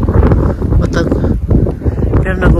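Strong wind buffets hard and close outdoors, a rough, gusting roar that pushes against the microphone while people talk over it.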